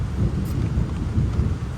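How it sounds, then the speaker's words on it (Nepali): Loud thunder rumbles on and on through heavy rain on a tree during a storm, a low, dense roar that fills the whole stretch with no talking. "यत्रो ठुलो चट्याङ गएको"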